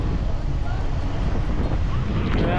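Headwind buffets a microphone while riding along a coastal road in CALABARZON, a loud, continuous roaring rumble that fills the clip with steady broadband noise and no clear voices.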